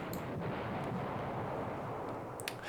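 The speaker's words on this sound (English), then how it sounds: "So much artillery falling on these guys." Artillery shelling in the wargame Command Ops 2, a dense continuous low rumble of distant explosions with a few sharper cracks near the end, heard with no talking.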